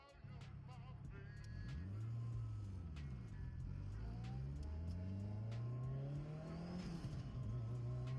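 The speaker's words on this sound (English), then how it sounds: "I like the natural pops too" An Acura RSX's all-motor K20A3 engine with a DC Sports header revs up and down repeatedly, loud and close, with crackling pops from the exhaust scattered through the revs.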